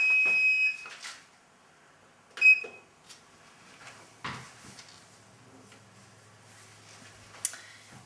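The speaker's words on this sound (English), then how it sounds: "Oh, that's our timer." A kitchen timer goes off with two short bursts of shrill electronic beeping, separated by quiet, with faint clatter and low hum around them.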